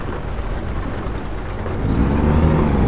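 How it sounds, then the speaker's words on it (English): Steady rain pours in the American Truck Simulator driving game, a constant broadband hiss that swells a little louder toward the end, with no talk over it. "I'm gonna turn my lights on just because it is raining"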